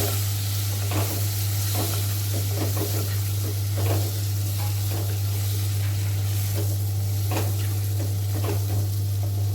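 Chopped cluster beans fry in a pan with turmeric, crackling and sizzling steadily while a spoon stirs with repeated scraping strokes, over a constant low electrical hum.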